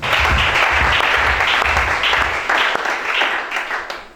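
A church congregation at a Gabonese worship service breaks into loud, sustained applause that fills the whole clip, with dense clapping over a steady rhythmic thump underneath.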